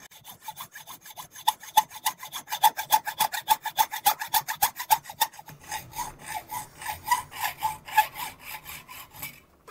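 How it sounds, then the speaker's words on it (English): A fine-toothed hacksaw blade waxed with beeswax cuts wood for a Danish dough whisk, rasping in a steady run of close, even back-and-forth strokes that speed up slightly toward the end. "you've got to use a fine toothed hacksaw blade too, where it'll grab and it'll be very difficult to cut"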